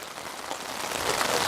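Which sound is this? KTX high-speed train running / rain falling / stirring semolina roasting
rain falling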